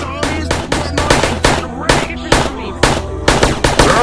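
Rapid bursts of gunfire in a Sonic zombie video game, loud repeated shots in quick clusters with brief gaps, driven by a steady beat underneath.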